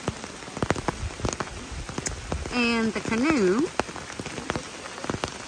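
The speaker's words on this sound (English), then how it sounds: "It is pouring rain" Heavy rain pours steadily onto surfaces beside the Kennebec River crossing, a dense close hiss with scattered sharp drop impacts throughout, while a person speaks briefly over it.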